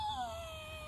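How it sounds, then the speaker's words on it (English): A neighbour's donkey brays in a long, drawn-out wailing call, heard from a distance as a sustained descending tone over low background noise. "Those sounds you hear, that screaming thing, that was the donkey."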